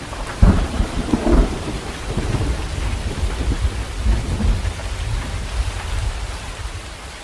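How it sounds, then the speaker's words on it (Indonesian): A thunderstorm sound effect for a radio drama: heavy rain hisses steadily while thunder cracks sharply near the start, then rolls and rumbles intermittently throughout. "Badai tiba-tiba datang."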